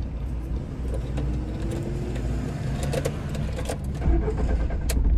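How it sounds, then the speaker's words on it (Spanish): A car stalls on an uphill while a learner driver is driving, then the engine is cranked and restarted, a low rumbling idle swelling louder near the end with faint clicks. "Se me acaba de apagar el carro"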